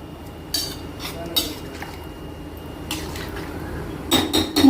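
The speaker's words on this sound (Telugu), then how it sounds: "ఇలా అంతా కలిసేలా తిప్పుకోవాలి" A spoon stirs rice and rock salt in a pot, giving scattered metallic scrapes and clinks against the pot, with a quick cluster of clattering taps near the end.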